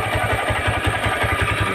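A motorcycle engine with heavy double-starter cabling and a newly replaced clutch, started with the clutch lever pulled in, now running steadily with a close, rhythmic low chug and mechanical clatter.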